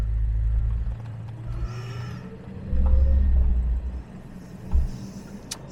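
A Jaguar XJ6 with a misfire idles in gear with its headlights on, a low steady engine rumble that swells briefly a couple of times, heard close with no voices.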